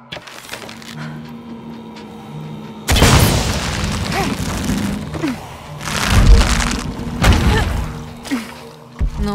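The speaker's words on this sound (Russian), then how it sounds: "нужно устроить взрыв." A loud, sudden blast in Shadow of the Tomb Raider breaks in near the three-second mark, followed by crackling debris and further heavy thuds and rumbling bursts over several seconds.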